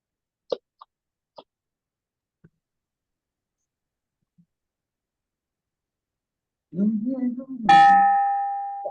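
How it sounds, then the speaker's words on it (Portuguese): After scattered faint clicks and a brief murmur of voices, a single clear virtual bell tone rings out to close a Rotary Club meeting and slowly fades. "Tem o nosso sino virtual."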